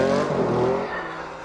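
A rally car engine burbles steadily and fairly loud at a low, droning pitch, fading slightly as the car heads to the finish of a stage in the 2000 Snowman Rally.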